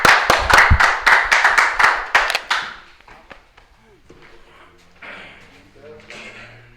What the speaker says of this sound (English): Clap it up for the Lord, y'all.